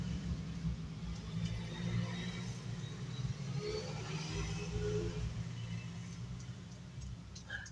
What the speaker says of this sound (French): il y a un convoi de moto qui passe